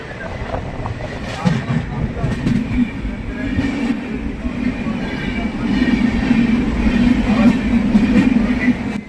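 A train pulls out of West Hill railway station, its steady rolling rumble growing louder and fuller over several seconds, with faint rail clatter and some background voices.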